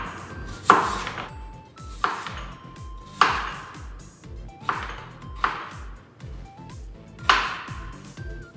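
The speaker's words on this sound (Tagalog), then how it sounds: "Then, i-chop na natin yan." Potatoes being chopped with a knife on a board, six sharp, evenly spaced chops about a second apart, close and clear with quiet gaps between.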